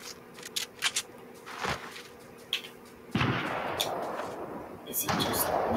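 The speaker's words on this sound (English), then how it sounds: "I think we're being sniped at?" Sniper gunfire in a squads video game: sharp, fairly faint cracks that land irregularly, some in quick pairs, over a low background hiss, with a louder rushing burst midway.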